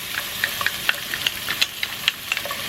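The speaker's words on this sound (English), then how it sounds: "I'm gonna give that a stir." Shallots, about a third of a cup, sizzle steadily in a pan while a utensil stirs them in short scraping bursts, close up with no talking.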